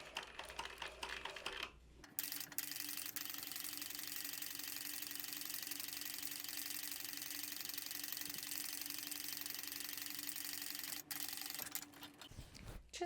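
A sewing machine runs steadily for several seconds as it stitches lining fabric around curves at a short stitch length, a close, even mechanical whir that starts and stops abruptly.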